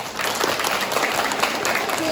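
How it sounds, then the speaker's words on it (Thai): Schoolchildren at a reading and learning camp at Ban Kum school applaud their university-student camp leaders, with brisk, crowded clapping throughout and voices talking over it. "ปรบมือให้พี่ๆ"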